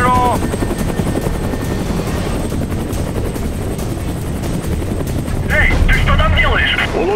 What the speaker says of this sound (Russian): Управляй долбанным вертолетом!